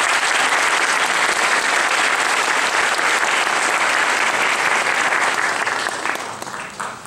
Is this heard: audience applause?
yes